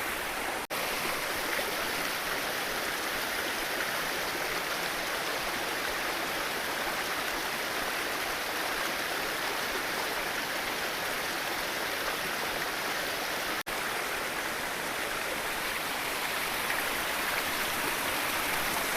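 Natural waterfall spilling from rocks in the hills, a steady broadband rush of falling water that stays loud and even throughout with no voices.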